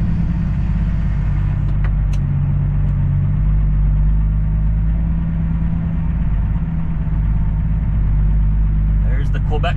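A semi truck's engine idles and rumbles steadily at a truck stop in Quebec as the driver turns to back into a parking spot, a continuous low drone close by under talk.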